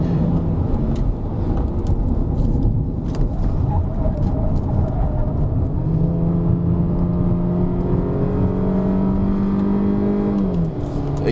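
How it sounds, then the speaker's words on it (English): A Peugeot 3008 SUV engine revs and climbs through gears on a Genting test drive, a loud steady drone with a rising whine that drops as it shifts up near the end, heard from inside the cabin. "It shifts up again."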